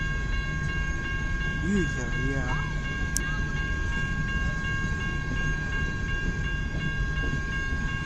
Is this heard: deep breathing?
no